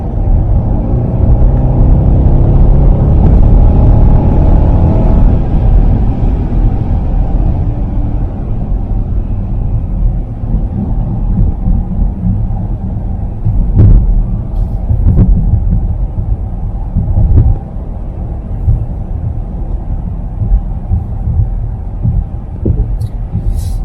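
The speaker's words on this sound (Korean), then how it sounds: "굉장히 엔진 사운드가 굵직하게 나옵니다" Heard from inside the cabin while driving, a Bentley Flying Spur flagship sedan's engine gives a loud, continuous deep rumble that swells early on and then holds steady, with no voices.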